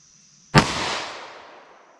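A single sharp gunshot from a .327 Federal Magnum revolver with a 1.875 inch barrel, a loud close crack followed by a long reverberant decay in an otherwise quiet setting.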